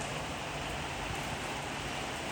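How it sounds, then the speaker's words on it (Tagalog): Steady summer rain in Madrid hisses evenly, a soft constant wash of droplets with no other sounds standing out. "Yung pala umuulan na naman oh."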